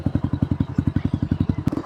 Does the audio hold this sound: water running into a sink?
no